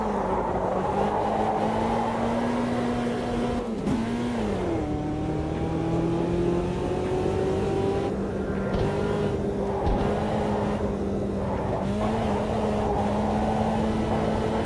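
Volkswagen Beetle race car engine in Automobilista 2, a steady loud drone with rising and falling revs and brief dips at gear shifts, running continuously without speech.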